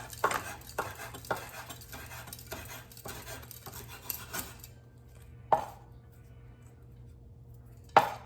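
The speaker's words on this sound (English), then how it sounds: "Stir that around." Utensil scraping and stirring in a pan with green onion being added, a few distinct clinks and scrapes spread through the stretch, fairly close and moderate, no voices.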